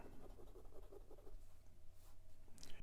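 A fountain pen with a number 5 fine steel nib writes on paper, giving soft, faint scratchy strokes in a quick rhythmic series, close and quiet against low background hum.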